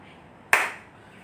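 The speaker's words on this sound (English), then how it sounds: "Come, Ganesan, I clap for you." A single sharp hand clap, close and crisp, ringing out briefly over a quiet room before decaying.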